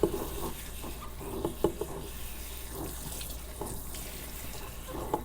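Running water splashes and patters as an older dog is rinsed during a bath, a steady stream of faucet flow with a few louder spatters and drips near the start.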